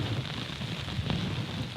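Steady rain falling in the remote Yukon wilderness, a dense, continuous patter with low rumbling undertones and one brief sharper drop, moderately loud and unbroken throughout with no voices.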